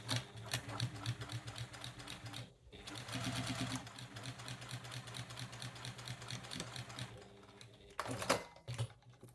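A sewing machine back-stitches quilt binding in a fast, continuous mechanical rattle that pauses briefly and then resumes, close and steady.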